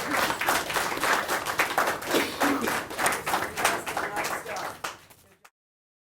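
An audience at a business ethics class debate breaks into steady, loud clapping that goes on for several seconds, then tapers off and stops abruptly.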